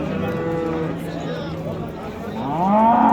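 Cattle at a cow market low nearby: one long drawn-out moo, then a louder rising moo toward the end.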